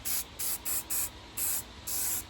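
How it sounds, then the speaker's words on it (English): A spray paint can hisses in six short bursts with brief gaps between them while coating the edges of antique ornaments, close and fairly quiet. "just spray painting the edges"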